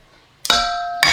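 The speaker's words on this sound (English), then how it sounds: "And there's our microwave finishing." An electronic beep sounds once, then a second beep begins right after a short pause, both clear and close.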